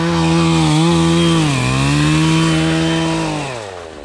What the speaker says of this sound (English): With 3 saws running